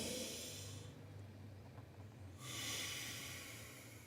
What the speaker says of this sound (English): Take a deep breath through the nose.